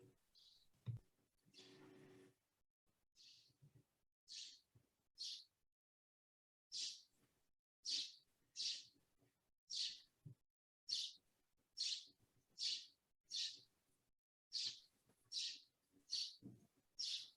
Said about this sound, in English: Joanne, there is a bird who has some very strong opinions.